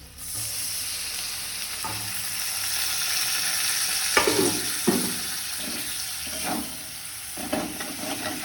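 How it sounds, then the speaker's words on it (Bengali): Pointed gourd and onion paste sizzle in a frying pan while being mixed, a steady close frying hiss broken by several scraping stirring strokes in the latter half. "একটু ভালো করে মিশিয়ে নেব পটলটার সাথে"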